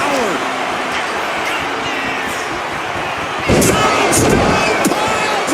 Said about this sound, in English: This capacity crowd is really willing these competitors on.